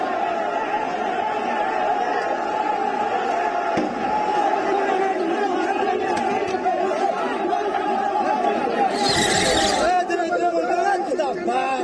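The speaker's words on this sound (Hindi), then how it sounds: "कोलकाता में सीबीआई दफ्तर के बाहर पहले से भीड़ मौजूद थी।" Dense crowd murmur and chatter outside the CBI office in Kolkata during the Narada bribery case, a steady loud hubbub of many voices with a brief sharp burst of noise near the end.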